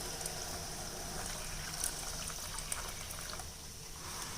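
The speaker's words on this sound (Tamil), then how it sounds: "இப்போ இந்த வெள்ளை தண்ணியோட நம்ம 2ஆம் பால் கலந்துடலாம்" Second coconut milk pours into jaggery water in a pot on the stove, a soft, steady liquid trickle over a faint hiss for a few seconds.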